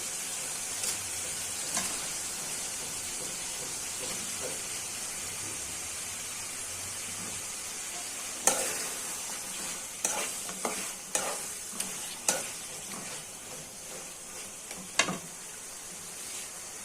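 Taki fish being stirred into hot spiced oil in a pan, a steady bright sizzle of frying throughout, with several sharp scraping clatters of the spatula against the pan in the later half. No one speaks.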